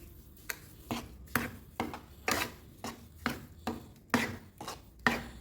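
A spoon scrapes through a thick raw mango papad mixture in a pot, giving about a dozen regular, evenly spaced strokes at close range with no talk.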